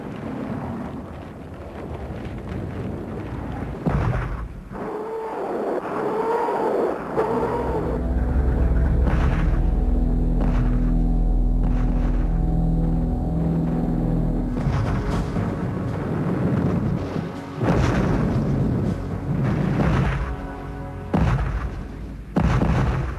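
A thunderous artillery barrage rains down on a German defensive perimeter during the Battle of Berlin, with deep booming blasts and a continuous heavy rumble of bombardment, along with wind-like roar.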